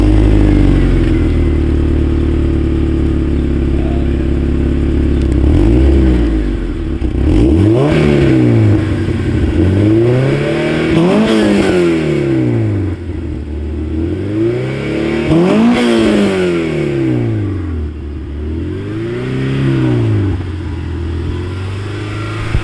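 A 2002 Honda Civic Si EP3 fitted with a NEUSPEED exhaust revs repeatedly outside, each loud engine rise and fall sweeping up and down in a rhythmic series of throttle blips after a steady idle, close and clear with no talking.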